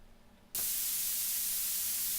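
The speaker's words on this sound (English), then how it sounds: "So here's blue noise." Faint quiet hiss gives way suddenly to loud, bright blue noise from a DIY modular synthesizer module, a sharp high-pitched spray that holds steady to the end.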